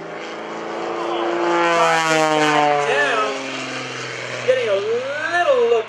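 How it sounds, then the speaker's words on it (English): A Gary Ward aerobatic propeller airplane performs rolling maneuvers at the 2013 Greenwood Lake Airshow, its engine droning loudly and sweeping up and down in pitch as it banks, with an announcer talking over it. "rolls the airplane around"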